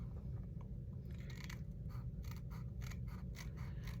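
A paper towel roll flipbook being trimmed with scissors, faint and close, with a run of about ten crisp snipping cuts in quick succession over a low steady hum.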